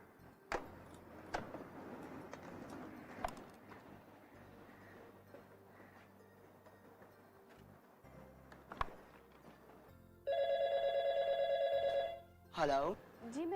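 A telephone rings in a loud, continuous electronic trill for about two seconds, followed by a couple of shorter bursts, after a stretch of quiet room noise with a few knocks and faint voices.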